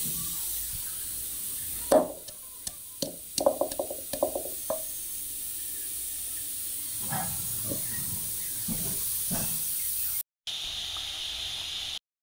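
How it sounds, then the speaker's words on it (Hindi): A pressure cooker of lentils on the stove lets off a steady, fairly faint hiss of steam, broken early on by a quick run of sharp rattling clicks and later by a few softer bursts. "मैंने 10 मिनट के लिए इसको प्रेशर पे लगा दिया, सीटी पे"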